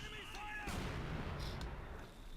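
A mortar fires in the World War II strategy game Company of Heroes 2, a heavy thump followed by a few distant booms, with game voices briefly heard before it.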